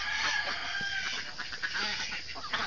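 Backyard ducks kept on a small farm calling in a dense, continuous chorus of overlapping quacks and squawks, loud and close throughout with no talking.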